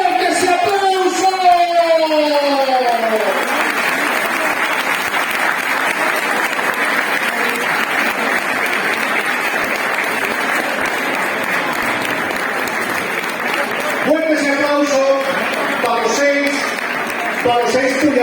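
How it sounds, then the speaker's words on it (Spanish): At a cheese auction for the Afuega'l Pitu competition, an audience breaks into long, loud, sustained applause that lasts well over ten seconds, with an announcer's amplified voice calling out over it at the start and again near the end. "¡Fuerte ese aplauso!"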